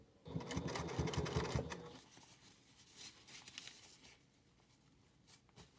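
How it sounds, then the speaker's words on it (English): A sewing machine stitches a fabric packing cube in a loud, rapid burst of needle chatter, then gives way to quieter, intermittent clicks and handling noises. "And now I can sew right down."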